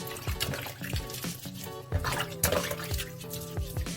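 Water splashing and running over a human hair lace wig being washed, with close, uneven sloshing and dripping bursts and no talking.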